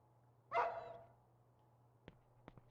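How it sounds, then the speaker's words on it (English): A dog in the horror video game Rule of Rose yelps in pain with one loud, sharp cry, then falls quiet over a steady low hum, followed by a few faint clicks. "I know they're not already hurting damn dog."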